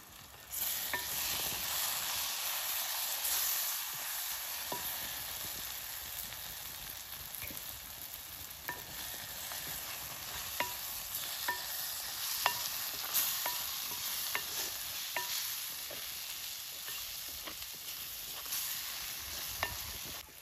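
Masala with ground pepper and fennel sizzles steadily in a hot pan while being roasted and stirred outdoors in Kerala for a prawns roast, with a constant close crackle and occasional scrapes of the stirring spoon.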